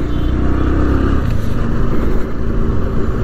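A TVS Radeon 110 motorcycle with a 110 cc engine runs in fourth gear, giving a steady, loud, continuous drone with a low rumble and no clear changes in pitch throughout.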